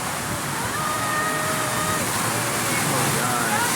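Rushing, churning water on the Congo River Rapids raft ride at Busch Gardens, a loud, steady broadband roar close by that persists through the whole stretch, with a rider's voice faintly under it.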